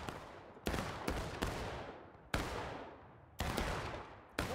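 Muskets fire in the Civil War video game War of Rights, six sharp cracks spaced irregularly, each trailing off in a long echoing decay, fairly distant and faint.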